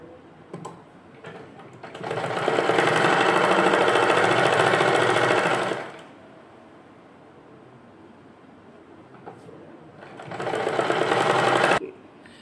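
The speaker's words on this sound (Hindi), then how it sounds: "इसको सारी पट्टी को ऐसे एक सिलाई लगा लेंगे मोड़ के" A sewing machine runs two bursts, one long and one short, stitching a folded fabric strip half an inch in for a small summer dress for a Kanha ji idol, with quiet handling between runs.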